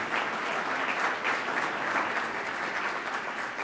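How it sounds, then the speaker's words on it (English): An audience at a nonprofit event applauds its sponsors, a steady wash of clapping from many hands, moderately distant and even throughout. "So let's give all the sponsors a big round of applause, please."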